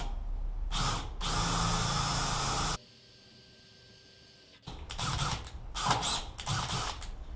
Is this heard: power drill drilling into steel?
yes